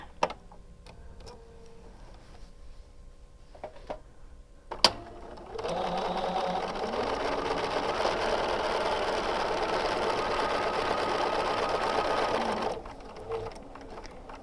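A sewing machine stitches a quilt border, starting after a few soft clicks and running in one steady, fast, even whir for about seven seconds before stopping.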